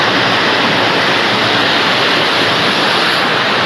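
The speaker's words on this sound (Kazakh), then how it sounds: "Мына үйден шығып жатқан су мынау." Floodwater pouring out of a house during flooding in Turkistan region, a loud, continuous rushing roar of water with no pauses.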